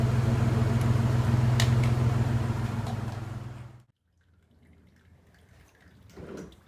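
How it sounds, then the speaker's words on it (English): Water dribbles and drips from a shower head while a circulation pump runs on a truck-mounted hot water system, a steady broadband rush that cuts off abruptly partway, leaving faint trickling and a soft swell near the end. "That's why I see a little dribble out of the shower head"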